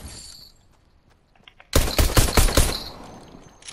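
Rapid automatic gunfire rips out in a loud burst of shots aimed at a tree in the Fortnite video game, following a few faint clicks and quiet game sounds.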